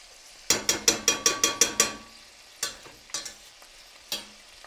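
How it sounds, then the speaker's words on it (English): Orzo pasta being sautéed in oil and butter gives a quick run of about eight rhythmic scraping strokes, then a few slower, separate scrapes and knocks against the pan, close and clear. "you just swish this around to make sure it's like drenched a little bit with all the oil and butter"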